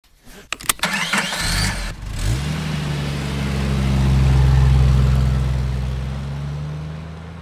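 A vintage Mercedes-Benz W115 car engine starting: a few sharp clicks and cranking, then the engine catches and settles into a loud, steady idle that swells slightly and holds.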